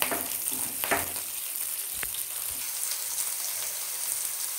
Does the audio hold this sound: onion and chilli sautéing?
yes